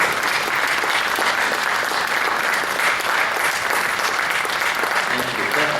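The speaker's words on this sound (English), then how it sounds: "let us give you a round of applause" An audience at an air museum program applauds veterans standing in the crowd: a steady, full wash of clapping from many hands, sustained and even throughout with no break.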